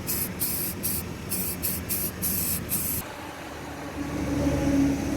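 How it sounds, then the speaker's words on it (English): A spray paint can hisses onto the radiator of a Duramax diesel truck in a rapid series of short bursts, close up. "Okay, so I got my can of spray paint."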